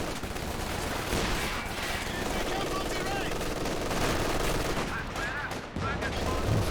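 Dense battle noise from Company of Heroes 2 during a 2v2 match, with rapid machine gun bursts and rattling gunfire running continuously under loud, overlapping explosions and combat effects, mixed with a caster's talk.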